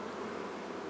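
Agitated honey bees swarming after a puff of smoke from a beekeeper's smoker, a dense, close, continuous droning buzz.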